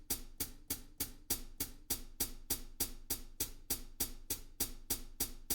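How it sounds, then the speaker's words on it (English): A hi-hat cymbal on a drum kit, played alone in a steady, even pattern of crisp metallic ticks, about two to three strikes per second, close and clear with no other instruments. "And this is the hi-hat."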